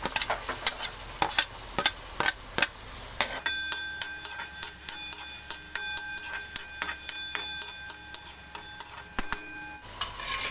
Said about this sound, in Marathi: आता मी त्याच्यात वाटाणे पण टाकते